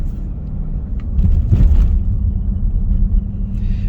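A Dodge Durango R/T engine hums low and steady while cruising, a continuous rumble with a brief swell of throttle midway before settling back to an even drone.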